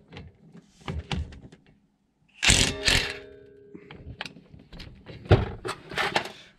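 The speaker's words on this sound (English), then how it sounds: "I have a 17 millimeter on an impact. Just going to go ahead, sneak in here, and then we're just going to fire these right off" An impact wrench with a 17 mm socket breaks loose the front brake caliper bolts on a 2009-2014 Acura TL, giving two loud buzzing, hammering bursts with quieter clanks and handling knocks between them.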